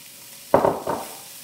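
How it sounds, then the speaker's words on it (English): Prosciutto hits a hot skillet and bursts into a short, close sizzle, two quick crackling pulses that settle into a faint hiss. "To our hot skillet, we're going to add our prosciutto."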